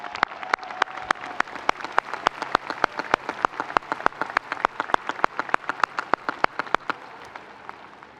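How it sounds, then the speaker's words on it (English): A commencement crowd at Stanford's 2022 ceremony applauds speaker Reed Hastings: a steady, moderately loud wash of clapping with sharp individual claps standing out, sustained for about eight seconds before slowly thinning. "Please join me in another round of applause for Reed Hastings."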